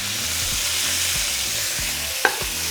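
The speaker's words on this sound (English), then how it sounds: "in the same oil, we're going to throw in our meat" Beef seasoned with black pepper and salt drops into hot oil to brown, giving a loud, steady, close sizzle throughout, with one sharp clank of a utensil near the end.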